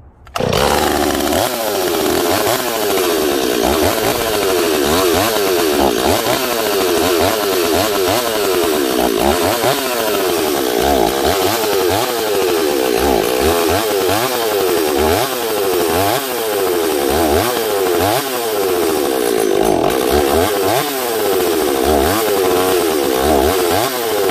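A ported Stihl 026 chainsaw with a custom dual port fires up and runs loud and close, its engine snarling with a steady roar and wavering revs.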